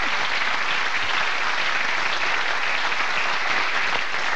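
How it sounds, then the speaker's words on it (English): A studio audience at a 1985 television magic show applauds loudly and continuously, a dense, even wash of clapping with no voices above it. "Big round of applause."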